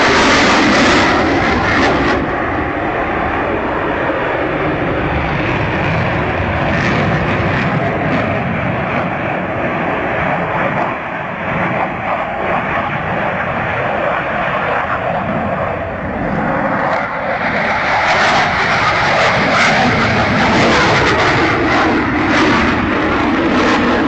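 A MiG-29 Fulcrum jet flies a display at RIAT, its engines a loud, continuous broadband roar that swells and shifts slightly over more than twenty seconds.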